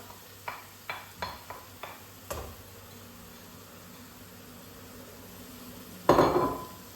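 Grated carrot and onion in a pan for a kofta lasagna, stirred with a utensil. A series of light rhythmic taps and scrapes is followed by a soft background hiss and a louder clatter near the end, all fairly faint.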